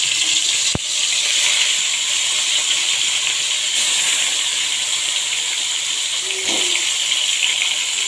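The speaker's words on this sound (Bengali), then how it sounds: "তেলটা আমার গরম হয়ে গেছে, আমি এক এক করে মাছগুলো দিয়ে দিব।" Fish sizzle in hot soybean oil in a home kitchen, giving a steady, loud, close frying hiss that runs unbroken through the clip with a couple of brief knocks.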